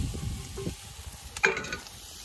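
Broccolini tossed into a frying pan at a camp stove, giving low crackling sizzle and a few stirring clatters, with a brighter burst of sizzle partway through as the florets hit the hot oil.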